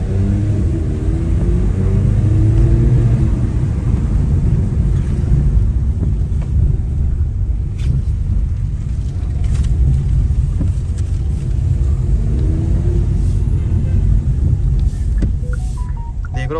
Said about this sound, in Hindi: एक बार विंडो ओपन करके ना आपको साउंड सुनाने की कोशिश करता हूँ, क्या साउंड है इसका, देखना आप टर्बो का